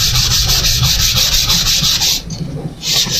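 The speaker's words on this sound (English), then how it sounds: "I'm still doing a final sanding on the walnut closet hanger" A walnut wood closet hanger is sanded by hand in steady, loud back-and-forth rubbing strokes up close, with a brief pause before the scraping resumes.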